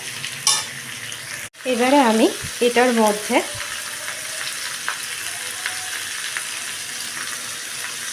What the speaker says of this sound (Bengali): দিয়ে আলু আর কুমড়োটাকে ভালো করে মিশিয়ে নেব, একটু ভাজা ভাজা করে নেব।